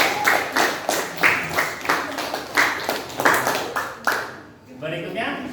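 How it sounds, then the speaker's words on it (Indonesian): Classroom applause for a student group, a series of rhythmic pulsing bursts of clapping from several people, fading near the end as a voice begins speaking. "berikan aplaus buat kelompok"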